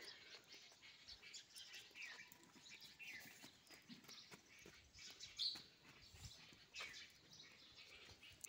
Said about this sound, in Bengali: পাখিরা ডাকতেছে কিচির মিচির